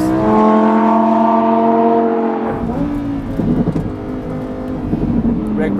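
Lamborghini Huracan EVO engine revs hard at full speed through a track corner, a loud rising harmonic howl that drops as gears shift, then rumbling engine noise continues under an excited voice.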